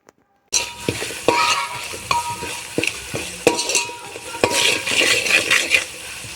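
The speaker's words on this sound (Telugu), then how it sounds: "మొత్తం అయితే ఒకసారి ఇట్లా కలుపుకోవాలి" Chili powder being stirred into hot oil for an egg biryani masala, a spoon scraping and knocking against the pan in a regular rhythm over a faint sizzle, close and fairly loud.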